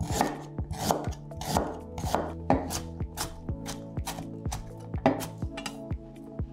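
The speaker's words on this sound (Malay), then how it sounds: "Halia, satu inci. Ni Cik Nong hiris nipis dulu sebab nanti nak tumbuk." Knife thinly slicing an inch of Bentong ginger on a board in a home kitchen for spicy chicken curry, a steady run of crisp close chops, about two per second, with no talk.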